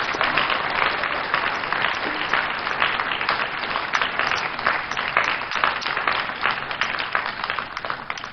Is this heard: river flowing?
no